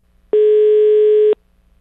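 A telephone call tone sounds during a prank call: one steady, loud electronic beep lasting about a second, with near silence on both sides.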